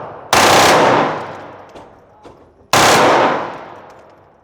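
A TX22 .22 pistol fitted with a Freedom Finger forced reset trigger fires two bursts of rapid shots, each burst about half a second of sharp, loud, close cracks, with ringing decay and a short pause between them.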